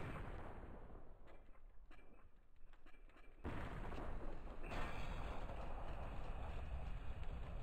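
Molotovs and a flashbang thrown during a Counter-Strike match on Inferno, with a rumbling burst and crackle that jumps into a louder, sustained roaring fire mid-clip.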